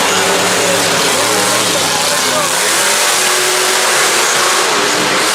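Monster truck El Toro Loco revs its engine at a Monster Jam show in Cardiff, a loud sustained roar with shifting pitch that fills the arena, with voices over it.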